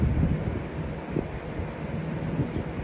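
A 2003–04 Lasko Weather-Shield box fan, model 3720, dirty and restricted before cleaning, gives a continuous low, rumbling rush of airflow, steady and fairly loud close to the microphone.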